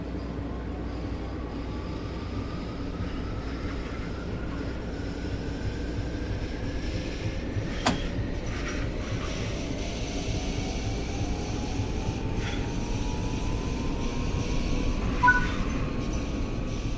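A Long Island Rail Road commuter train in Train Sim World 4 pulls away with a steady low rumble and rising motor whine that climbs in pitch as it gains speed, with a faint click partway through.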